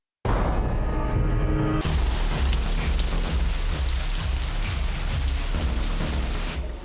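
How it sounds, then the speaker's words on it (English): Heavy rain pouring down before a vintage motorcycle ride, a dense, loud, constant wash of noise that starts abruptly and continues steadily, with a deep rumble underneath. "It's not just raining, it's pouring"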